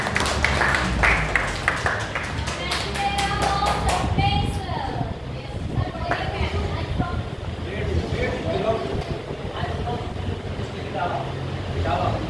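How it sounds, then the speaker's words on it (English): Audience of students clapping for a teacher at an interview session, a burst of applause in the opening seconds that fades while talk and murmuring continue. "So let's clap for sir."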